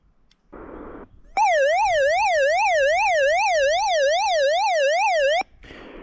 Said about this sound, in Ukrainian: така от не зовсім приємна і зрозуміла функція, як сигналізація. От зараз я її включу